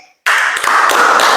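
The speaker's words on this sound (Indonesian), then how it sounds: "Tepuk tangan dong" A class of students clapping for a classmate, the applause starting abruptly after a brief near-silent moment and continuing as a dense, close patter of hands with slight surges.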